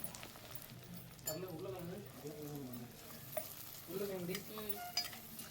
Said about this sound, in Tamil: அதோட நறுக்கி வச்ச வெங்காயத்தை போட்டு நல்லா வதக்கி